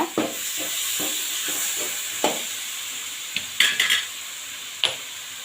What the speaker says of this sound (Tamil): இப்போ தக்காளி சேர்த்துடலாம்